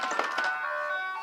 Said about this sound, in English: So sorry if you hear the ice cream truck in the background.